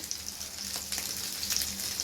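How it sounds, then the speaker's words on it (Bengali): Bora fritters shallow-frying in hot oil, a steady bright sizzle with scattered crackles and pops, close and moderately quiet with no talking. "আর এটা এখন ভাজা হবে একটা পাশ তারপরে উল্টে আরেকটা পাশ"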